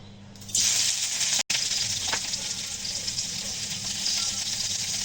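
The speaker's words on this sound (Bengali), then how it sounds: "তেলটি গরম হয়ে গেলে কাঁচা ছাড় আর কাঁচা পেঁয়াজ ভেজে নেব" Green chillies and onions hit hot oil in a kadai with a sudden loud hiss, settling into a continuous close sizzle with a faint clink of a utensil.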